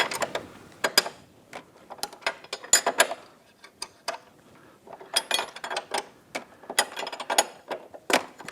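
A ratcheting tool works at the steering head bearing nut of a Honda Goldwing, giving close, sharp clicks and ticks in irregular runs with brief pauses and metallic handling noises between them.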